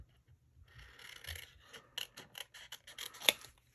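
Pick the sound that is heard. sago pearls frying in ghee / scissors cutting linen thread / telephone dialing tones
scissors cutting linen thread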